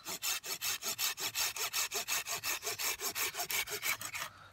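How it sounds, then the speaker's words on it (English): A sharp hand saw cuts through a wooden peg with steady, even back-and-forth strokes, about twenty rhythmic rasping passes close up and loud, ending abruptly. "Let the saw do the work."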